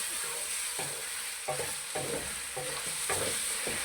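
Green coriander is stirred into a taro root curry frying in a pan, with rhythmic spoon scrapes about every half second over a steady sizzle.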